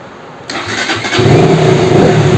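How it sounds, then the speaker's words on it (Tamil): A KTM Duke 200 motorcycle cranks over and fires up, the starter whirring briefly before the engine catches and settles into a loud, close, steady idle. "பைக்கை ஸ்டார்ட் பண்ணிட்டோம்."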